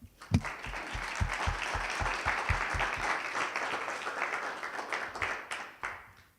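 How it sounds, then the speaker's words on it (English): Audience applause for participants at an innovation fellowship pitch final in Kenya, starting with a few sharp claps then swelling into sustained clapping from a crowd before tapering off. "I'd like to first give a round of applause to all of you for all your effort."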